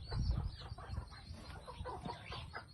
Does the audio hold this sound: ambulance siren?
no